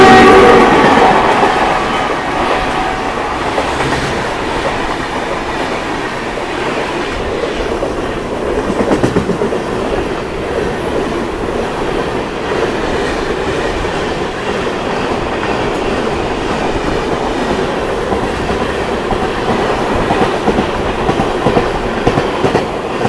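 The Tirupati–Puri Express (17480) pulls into a station platform with a continuous loud rumble and rhythmic wheel clatter that persist throughout, with no voices.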